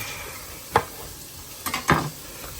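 Chopped chillies tipped into a hot pan with onions for a Guinness chilli, giving a steady close sizzle broken by a few sharp scraping stirs and clatters of a spoon against the pan.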